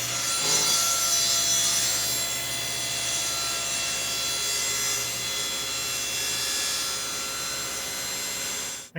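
A wooden plinth block for interior door trim being notched with a hand tool, a steady close scraping and rasping of wood that continues without pause, with no talking.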